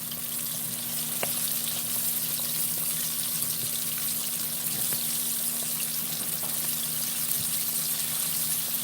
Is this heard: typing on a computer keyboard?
no